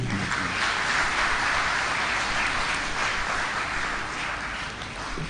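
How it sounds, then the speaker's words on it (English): Seminar attendees give a long round of applause after a speech, a thick, even roar of clapping that holds steady and then eases slightly toward the end. "Shall we please give him another round of applause?"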